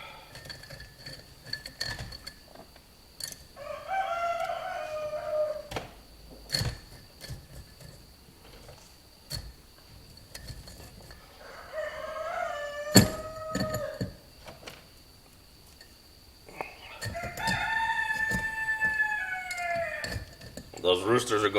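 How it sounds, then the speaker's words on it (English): Several roosters crow in separate bursts, one after another at moderate distance, with scattered clinks and faint background noise between calls. "Those roosters are going crazy."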